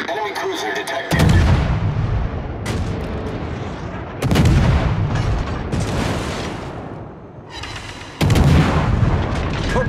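Naval gunfire in World of Warships from the ship Sejong, heavy booming salvos in three loud bursts with rumbling decay between them, a voice talking at times.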